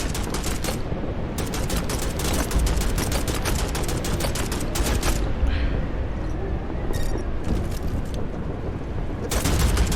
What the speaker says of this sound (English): So when we fall down right here, we can throw a grenade.